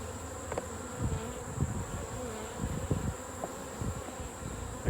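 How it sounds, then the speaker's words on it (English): Honey bees buzz around a hive frame as honey is processed, a close, steady drone with wing whines rising and fading as individual bees pass near. "any bees that are left on there"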